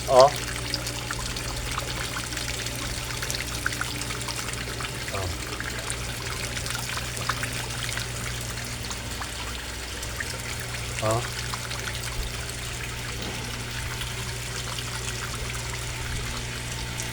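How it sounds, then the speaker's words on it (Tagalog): Air pump bubbling and aerating the water of a koi fish pond, a continuous close trickling and splashing with a steady low hum beneath, and a voice talking over it. "Then i-on din natin yung air pump ko guys, yung nag-i-air."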